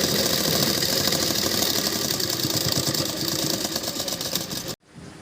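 A sewing machine runs steadily and close by while it stitches the side seams of a long straight-cut suit. The loud, even whirring motor holds for several seconds, then cuts off abruptly near the end.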